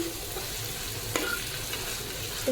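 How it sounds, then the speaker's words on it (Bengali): Shrimp sautéing in a pan on a home stove, a steady close sizzle running the whole time with one brief stir or clink near the middle and no talking. "তাড়াতাড়ির জন্য চিংড়ি মাছ এই জায়গায় কষাইতে দিছি"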